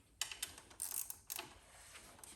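An Allen wrench loosens a bolt on a 2023 Indian Challenger motorcycle during an air filter install, giving a few quiet, close metallic clicks and scrapes in short bursts with no talking.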